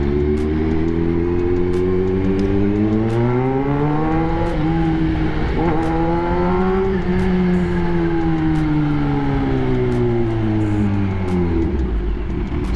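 A Kawasaki ZH2 motorcycle's loud exhaust revs up, holds, then eases down in a smooth, droning rise and fall, close and continuous for about thirteen seconds, with no talking.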